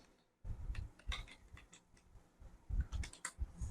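Fingers type an address on a computer keyboard while filling in an online order form, giving quick, irregular bursts of close clicking keystrokes with short gaps between them.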